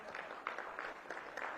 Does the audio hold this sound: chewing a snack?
no